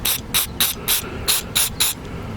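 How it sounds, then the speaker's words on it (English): Seven short, sharp bursts of spray hiss in quick rhythm, close and loud, as a cleaner is sprayed into holes in parts from a 2000 Subaru Outback being cleaned during catalytic converter replacement. "very, very gently, you want to spray into the holes"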